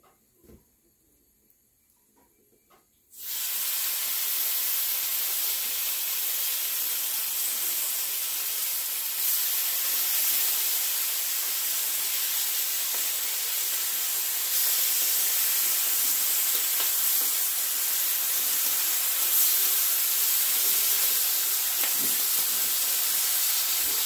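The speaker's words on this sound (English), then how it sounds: "We've got our griddle on about 350 degrees, and we'll put a little bit of oil down and get our bacon laid down" Bacon sizzling on an oiled griddle at about 350 degrees, a sudden onset after near silence, then a loud, steady broadband hiss that holds and swells slightly over time.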